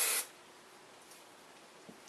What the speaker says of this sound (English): just take it and spray it on my bangs as well